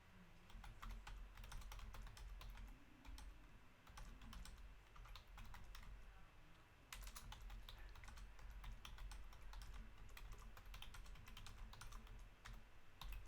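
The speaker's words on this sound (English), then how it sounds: "I'm typing to Sheila from the Monorail Tales group right as we speak." Rapid typing on a computer keyboard, close and crisp key clicks in quick irregular bursts with short pauses, over a faint steady room hum.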